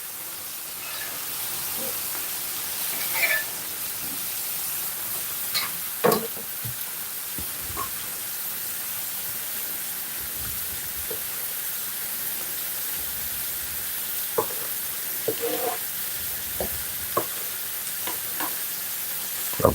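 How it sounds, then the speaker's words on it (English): Onions grilling on a griddle with a long-used metal spatula, a steady sizzle under scattered scrapes and taps as the spatula turns them, close and continuous. "Just gonna turn the onion on this. Just gonna grill them."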